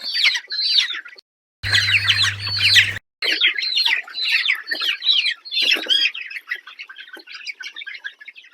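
Dense, high-pitched peeping of many desi country-breed chicken chicks, continuous and close, with a brief burst of low mechanical hum partway through.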